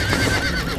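Horse in an animated show whinnying during a barn fire, a short loud neigh over dense background noise, close and continuous.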